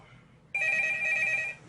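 A telephone rings sharply and steadily for about a second over a low background murmur, close and fairly loud.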